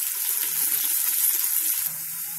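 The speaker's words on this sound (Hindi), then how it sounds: "जब तक हमारा प्याज और मिर्च भून रही है" Sliced onion and green chillies fry in hot oil in a pan for a restaurant-style bhindi masala, a loud continuous hiss and crackle that drops a little near the end.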